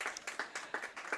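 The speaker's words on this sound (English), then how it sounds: "let's get the applause before we get right into it" Applause from the studio audience of a Bluefield College coaches' show, a few people clapping in light, uneven bursts that stay fairly faint and close, with no talking over it.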